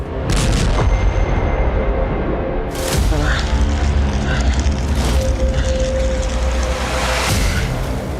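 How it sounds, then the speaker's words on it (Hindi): Heavy booming blasts hit at intervals over a rumbling, noisy background, loud and harsh like explosions in a combat zone, as a kamikaze drone strikes and destroys an artillery gun. "आत्मघाती ड्रोन से सटीक निशाना लगाकर इस तोप को तबाह कर दिया"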